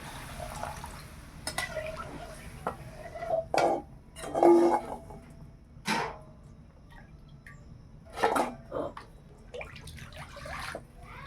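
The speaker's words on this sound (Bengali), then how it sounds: "এবার জল দেব শিল নোড়া ধোয়া জল যে মশলা বাটছিলাম সেই জল" Rinse water from a spice-grinding stone is poured into a curry of fried spices in a home kitchen, arriving in several short splashing bursts separated by quieter gaps with low background rustle.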